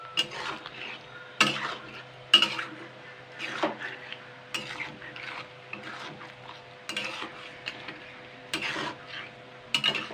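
Chicken gizzard and liver sauté with gram flour in a pan under a low, steady sizzle. Sharp spatula scrapes and knocks against the pan come at irregular intervals, close and fairly faint.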